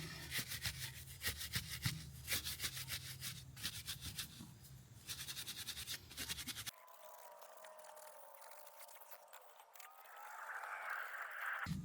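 A new brush scrubbing a DeLorean wheel during a car wash, rubbing in repeated rapid back-and-forth strokes close to the mic, then shifting to a softer, muffled scraping.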